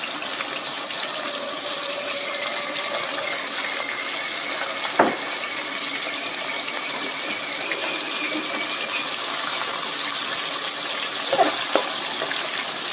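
Lobster pieces deep-fry in hot oil for a Cantonese lobster dish, a steady dense hiss and bubbling sizzle running throughout with a couple of brief clinks, close and fairly loud, no talking.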